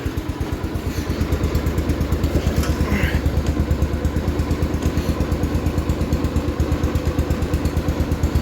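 A 1973 John Deere 140 H3 garden tractor, a barn find, sits idling with a loud, fast, steady chugging beat close by, running evenly without pause.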